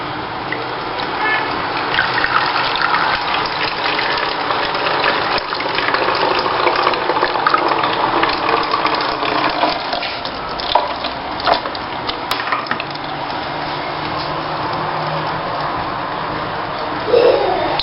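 Homemade rose water is poured slowly through a filter into a bottle, a continuous soft trickle and splash that carries on with little change.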